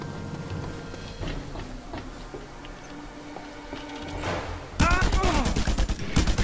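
Gunfire in the open-world action game Just Cause 2 breaks out suddenly in the final seconds as a loud, dense volley of rapid shots, preceded by a murky stretch of background game noise.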